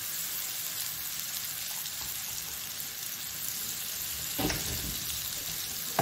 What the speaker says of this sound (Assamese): ভালদৰে এইখিনি মই ভাজি ল'ম